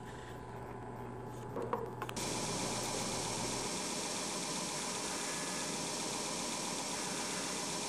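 A drill bit bores through the center of a gear wheel, a steady high-pitched motor whine with grinding texture that kicks in after a softer hum and runs on without break.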